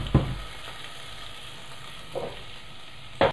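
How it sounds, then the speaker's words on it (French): Shallots and steamed sweet potatoes fry in a spoonful of olive oil in a saucepan over medium heat, giving a faint, steady sizzle broken by a few short clinks of stirring. "À feu moyen, on fait revenir dans une casserole"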